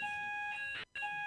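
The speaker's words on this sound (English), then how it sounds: "That's our fire alarm test." An electronic fire alarm test sounds indoors during a cabinet meeting, a steady high tonal beeping with a brief gap before it resumes, fairly loud and without speech.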